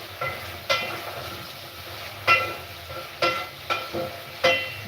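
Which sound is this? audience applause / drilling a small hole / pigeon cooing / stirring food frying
stirring food frying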